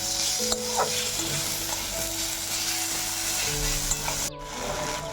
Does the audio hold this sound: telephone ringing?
no